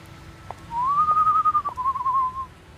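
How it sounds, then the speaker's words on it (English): A single person whistles a long, smooth, slightly wavering tone coming from a darkened alley in an audio drama, clear and fairly loud against a quiet street background, lasting nearly two seconds. "She didn't make it very far before she heard a whistle coming from a darkened alley"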